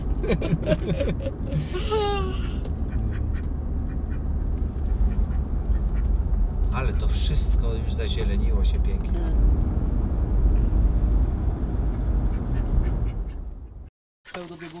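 Runner ducks quacking in a busy outdoor yard, a male and two females among them, with repeated raspy calls mixed into steady background noise while people talk over them.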